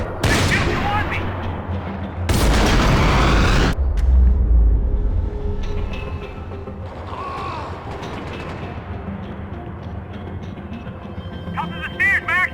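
Gunfire in Max Payne 3 crackles amid a firefight, with a loud dense burst of rapid shots in the middle and scattered sharper cracks near the end, set among mechanical clatter and background commotion.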